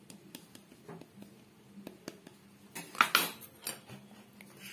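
Jalebi batter of rice flour mixed with a spoon in a bowl, light clinks and taps building into a brief burst of brisk scraping and stirring, close and quiet.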